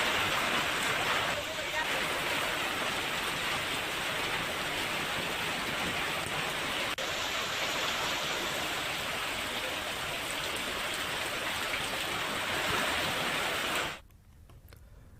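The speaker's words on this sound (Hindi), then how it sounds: "भगवानपुरा इलाके में तेज आंधी और बारिश हुई है और रुक रुक कर बारिश हो रही है" Heavy rain pours down in Bhagwanpura, Khargone, during a storm with strong winds, a dense steady hiss that fills the air for most of the stretch before cutting off abruptly near the end.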